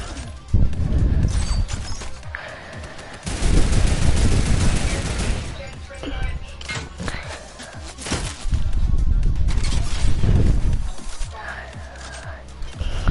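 Bursts of rapid turret gunfire in a first-person shooter video game, loud and crashing, coming in several long volleys separated by brief lulls, with a player's voice occasionally audible in between.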